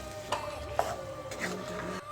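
A spoon stirs sliced tomatoes and spices in a pot for chana biryani, making soft scraping clinks and a low sizzle over about two seconds, close and quiet, with no talk.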